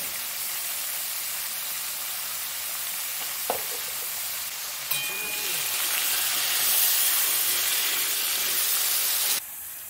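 A pressure cooker cooking meat lets off a steamy hissing whistle that swells for several seconds and stops abruptly, against a kitchen background of frying sizzle.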